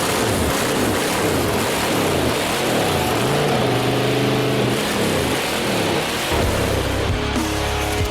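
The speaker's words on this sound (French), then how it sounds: "Le moteur a fini par démarrer" A hearse's engine, just fixed after its distributor was turned 180 degrees, runs loudly and continuously close by, its revs rising and falling in uneven surges before settling into a steadier, rougher run near the end.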